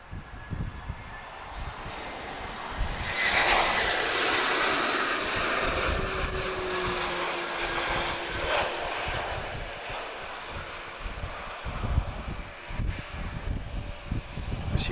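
Azores Airlines airliner in natural livery arriving from Ponta Delgada, a broad steady engine roar swelling near and holding for most of the pass before easing off, with faint clicks near the end.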